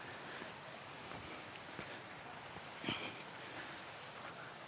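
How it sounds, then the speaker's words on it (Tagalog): River water flowing steadily past a campsite, a broad continuous rushing wash with some wind buffeting on the microphone and a brief louder splash midway, no talk. "Nasakto natin, ang ganda yung agos ng ilog"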